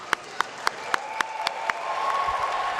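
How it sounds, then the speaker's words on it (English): A graduation ceremony audience in a university gym claps loudly. A few sharp, separate claps come first, then the clapping swells into steady applause that fills the hall. "You are very welcome to cheer for them."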